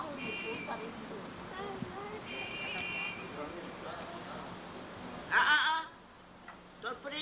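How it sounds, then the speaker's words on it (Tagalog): A cat at a child's third birthday party gives one loud, short meow near the end, rising clearly above steady background chatter and household noise. "May pusa rin doon."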